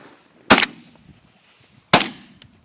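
Two loud, sharp shotgun blasts go off about one and a half seconds apart outdoors during a pigeon hunt, each with a brief echoing tail.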